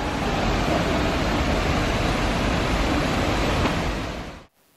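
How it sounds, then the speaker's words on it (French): A small waterfall at Gyeongbokgung palace in Seoul gives a steady, dense rush of falling water, loud and close. It carries on without a break for over four seconds, then drops away abruptly at the end. "jolie petite cascade"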